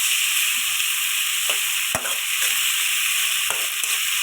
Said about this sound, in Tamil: தக்காளியும் போட்டுக்கிட்டு அப்படியே வதக்கிக்கலாம்.